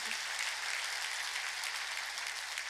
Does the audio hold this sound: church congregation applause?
yes